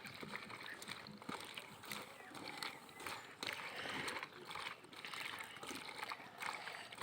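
Cut papaya pieces are washed in water, giving continuous sloshing and splashing with small bursts throughout, fairly faint and close, and some talk may come through faintly.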